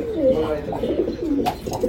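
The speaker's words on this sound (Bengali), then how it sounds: "খুব দারুণ আবলুক পায়রা বলে এটাকে" An Andhra abluk pigeon coos in low, wavering phrases close by, with a faint voice murmuring underneath and a short brighter burst near the end.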